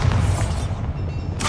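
Bombarda explosion spell in Hogwarts Legacy, a single deep booming blast with rumbling low end, close and loud, followed by a brief bright crackle as it fades.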